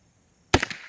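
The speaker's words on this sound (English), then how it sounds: "Let's try the little Mickey Mouse target that I've never hit" A single sharp gunshot from a Savage 29B rifle fired at a small target, a loud abrupt crack after silence with a short ringing decay.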